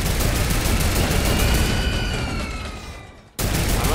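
Sustained rapid turret fire in Fortnite, loud and continuous, fading briefly into near silence before another burst cuts back in.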